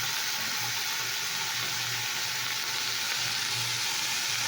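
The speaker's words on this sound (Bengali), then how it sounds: "শাকটা নাড়ছি।" Greens stirred in a frying pan sizzle steadily, with soft scraping and a constant close hiss and no talking.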